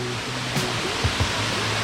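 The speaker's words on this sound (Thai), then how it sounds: "นี่คือน้ำตกหินโอ้โหหินมันใหญ่" A waterfall tumbling over large rocks on a forest trip gives a steady, full rushing roar close by, with a few brief thumps over the constant wash of water.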